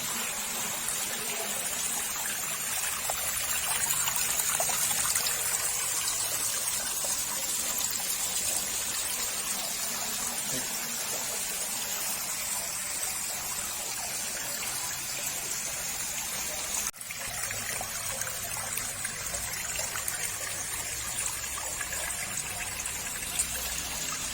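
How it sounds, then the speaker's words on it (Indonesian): Water drains steadily from a fish pond with filter chambers, a continuous close gushing and trickling wash that holds level throughout, broken by one brief bump, with no voices. "Nah, saya surutkan ya airnya ya. Saya surutkan semuanya biar kering."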